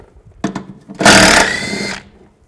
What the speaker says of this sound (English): Use a 10mm socket, take these two bolts out.